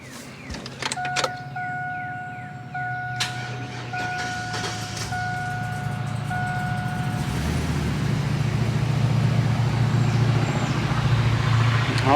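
A car engine cranking and starting with a battery charger on boost, then settling into a running rumble that grows louder and steadier, with a brief tonal whine and clicks early on.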